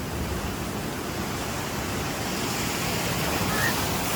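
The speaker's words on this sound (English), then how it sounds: "That's Coal Cracker, the water ride." Steady broadband rush of splashing water from the Coal Cracker flume water ride at Hersheypark, a continuous wash at moderate distance with no talk over it.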